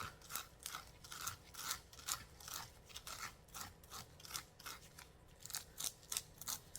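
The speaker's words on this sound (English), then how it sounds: "And now scraping, I would start at the bottom" A knife scrapes kernels off a corn cob in a steady series of close, rasping strokes, each a short gritty rub repeating about twice a second, with no talking.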